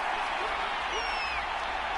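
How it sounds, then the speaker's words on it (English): Stadium crowd noise in Madden 24 during a Vikings at Lions game, a steady loud roar of cheering fans that holds constant throughout with faint whistles above it. "This crowd turning up the decibel level."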